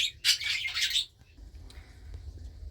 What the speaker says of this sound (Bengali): আমার অসংখ্য পরিমাণ বাজিগার রয়েছে যেগুলো আমি ব্রিডিংয়ে দিয়েছি